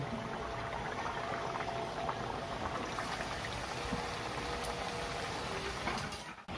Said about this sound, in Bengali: তেল গরম হয়ে গেছে, এবারে আমি লিট্টিগুলো একটা করে ছেড়ে দিচ্ছি